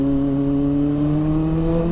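A motorbike engine runs loud and close, its pitch rising steadily as it accelerates over a couple of seconds, with no talk.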